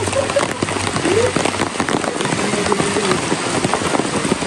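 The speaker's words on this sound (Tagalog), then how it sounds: "Alam mo umuulan." Steady rain patters across a surface with dense crackling drops, while a low engine-like hum sits underneath.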